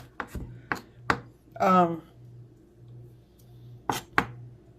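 A knife chops garlic on a board in sharp, separate strikes, a few quick ones, a pause, then two more, with a brief scraping rasp in between.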